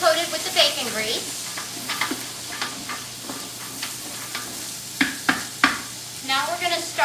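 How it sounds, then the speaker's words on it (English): Ingredients being stirred in a stock pot coated with bacon grease, a low sizzle under scraping and clanking of a spoon against the pot, with a person talking over it. "Stir this around in our stock pot where everything gets nicely coated with the bacon grease."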